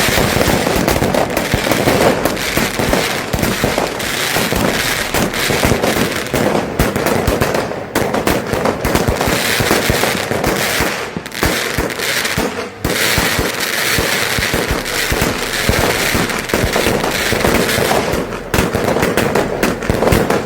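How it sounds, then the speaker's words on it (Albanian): Fireworks display set off by fans at a celebration, a dense, continuous barrage of crackling bangs and pops, loud and close, sustained throughout with no pauses and no talking. "për Louise Alleyn, fansat organizuan një spektakël me fishek zjarre për të festuar historinë e dashurisë së çiftit më të komentuar të showbizit shqip"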